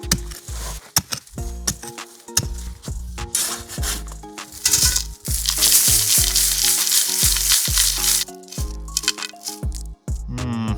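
Waste rock being sieved while digging for quartz crystals: gritty, rattling scrapes of stones shaken in a sieve, in uneven bursts with a louder steady stretch in the middle, close and with no talk.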